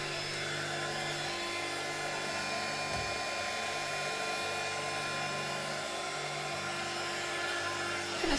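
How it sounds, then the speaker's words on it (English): A craft heat tool blows steadily to melt embossing powder on a stamped card background, giving an even, continuous hot-air whir at close range that runs the whole time with no talking. "I'm just going to warm up my heat tool and"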